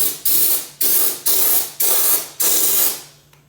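A compressor-driven spray gun set to 80 PSI sprays Raptor bedliner onto a 2017 Ram front bumper. It makes five sharp, close hissing bursts in a steady rhythm, each fading briefly before the next, then it trails off.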